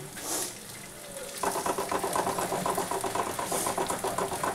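Egg frying in a pan with onion and spices sizzles with a steady crackling hiss that jumps louder partway through and keeps bubbling evenly, close by.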